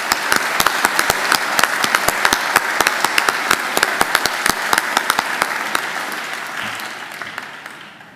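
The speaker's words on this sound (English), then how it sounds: "Please join me in giving them a round of applause." A large audience at a Macquarie University graduation ceremony gives a round of applause for the graduates, with loud, dense clapping from many hands that tapers off toward the end.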